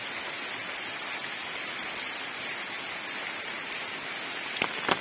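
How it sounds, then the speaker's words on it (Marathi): Heavy rain pours steadily near Gangeshwar temple among large old trees in Waghivare, Devgad: a dense, even hiss of drops on surfaces with no break and no voices. "पावसाचा जोर वाढलेला आहे सध्या."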